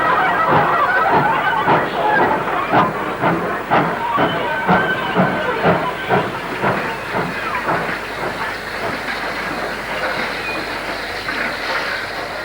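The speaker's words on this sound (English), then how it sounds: "45321 busies itself fly shunting in the yards." Black 5 steam locomotive 45321 fly shunting in the yards at Wigan North Western, a steady run of rhythmic chuffs and wagon clanks at moderate distance, continuous and fairly loud, with no talk.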